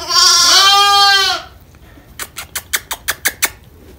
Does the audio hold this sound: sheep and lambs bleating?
yes